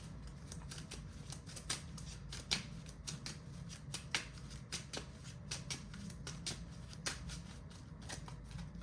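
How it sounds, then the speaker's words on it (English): Trading cards from the TMNT trading card game being shuffled by hand at close range, a run of quick, crisp riffling snaps repeating irregularly over a low steady room hum, with no talking. "I'm gonna put all 3 of these cards back in my deck, shuffle, and draw 3 cards"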